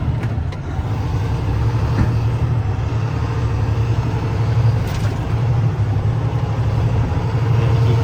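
A vehicle's engine drones steadily as it drives through dirt and sand, revving under load with subtle rises and dips as it moves through the gears, close and loud without talk.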